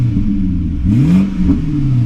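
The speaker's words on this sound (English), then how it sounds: "Listen on idle. Like an old American V8." Deep, rumbling idle from a BMW 745i E65 V8 with the rear muffler deleted, heard close up with a small throttle swell partway through.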